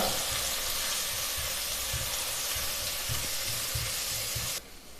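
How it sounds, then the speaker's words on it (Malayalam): Crushed garlic and ginger sautéing in hot oil in a pan, a steady, close sizzle and hiss with faint stirring scrapes, cutting down sharply just before the end. "ഇനി നമുക്ക് ഇഞ്ചിയുടെയും വെളുത്തുള്ളിയുടെയും പച്ചമണം മാറുന്നത് വരെ ഒന്ന് വഴട്ടി കൊടുക്കാം"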